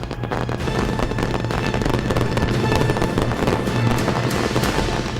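Rapid, dense crackling and popping of fireworks going off continuously, loud and close, with no pauses and no talking.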